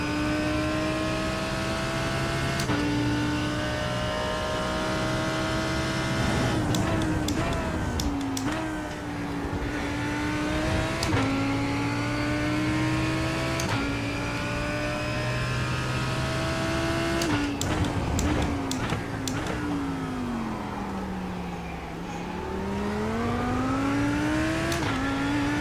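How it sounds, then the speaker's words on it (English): Race car engine in a racing video game at Donington, droning steadily at high revs with pitch sweeps and crisp downshift blips, loud and continuous throughout. "Those downshifts sound so good."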